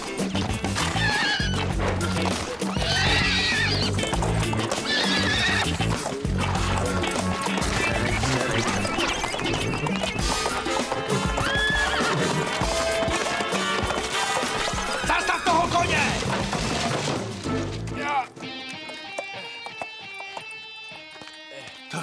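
A horse whinnies amid clip-clopping hooves in a TV drama scene, loud and busy for most of the stretch, then fades into sustained tonal music near the end.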